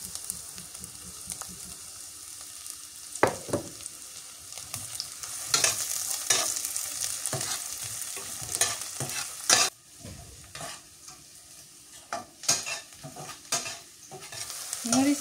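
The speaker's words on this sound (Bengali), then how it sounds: "মরিচ পেঁয়াজ ভাজা হয়ে গেছে" Sliced green chili and chopped onion fry in mustard oil in a village kitchen pan, a steady close sizzle broken by repeated scraping stir strokes, with no talk.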